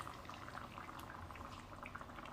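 A pot of Kerala-style drumstick and pumpkin curry boils steadily, its dense bubbling and popping running evenly throughout with no voices.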